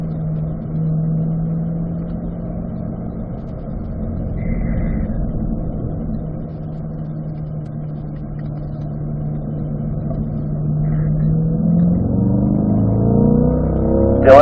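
A car on a racetrack holds a steady engine drone in third gear, then revs and accelerates away from a turn, the pitch climbing toward the end with a sharp burst at the close.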